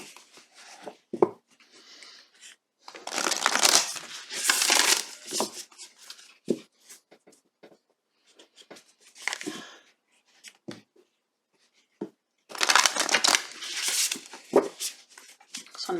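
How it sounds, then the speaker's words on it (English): Shuffling of a new oracle card deck: bursts of crisp riffling and card friction, close and fairly loud, alternating with quiet pauses and soft handling sounds. "Just want to make sure they're shuffled well, because it's a new deck."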